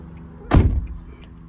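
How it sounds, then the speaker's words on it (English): A Nissan Patrol car door swings shut with a single solid thud, close and fairly loud, followed by a brief fading rattle and a quiet background. "So check the keys, open the door"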